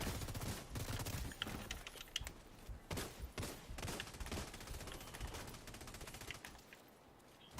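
Bursts from the Pestilence machine gun in The Division 2 video game, dense rattling automatic fire in uneven volleys with a few sharp louder cracks, tapering off toward the end.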